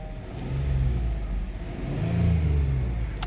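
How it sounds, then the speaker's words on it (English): A 2017 Kia Sorento engine running just after starting with a newly programmed key, a steady close idle with a mild rise in revs, no talking over it. "Car start with this one."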